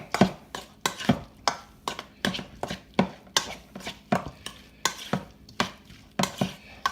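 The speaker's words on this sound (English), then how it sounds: "And then you're gonna stir that around. Just get that good and coated on all the shrimp." Raw shrimp coated with garlic powder are stirred and turned, making a steady run of sharp, close clicks and scrapes, about two to three per second, with no one talking.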